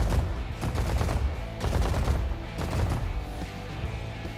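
Rapid bursts of ship weapon fire in the space shooter game Space Cats in Space, repeated stuttering volleys that are loud and close, with no voices.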